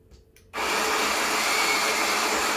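A Sunbeam EM6910 grinder kicks on abruptly after a brief quiet and grinds coffee beans with a loud, steady, high-pitched whirring buzz that continues without pause.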